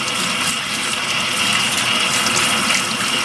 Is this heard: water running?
yes